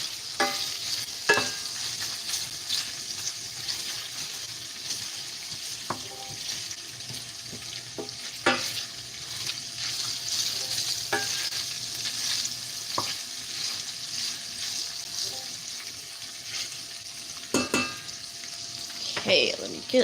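Bacon frying in grease in a pan while being stirred with a small spoon, a continuous soft sizzle punctuated by scattered scraping clicks, close and fairly quiet.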